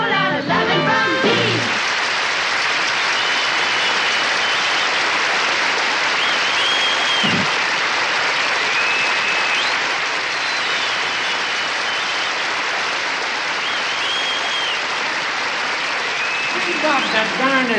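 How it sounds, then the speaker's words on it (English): Studio audience applause for a variety show, a dense sustained wash of clapping that swells in at once and carries on loudly with a few brief shouts, a voice talking briefly at the start and end. "I appreciate your applause"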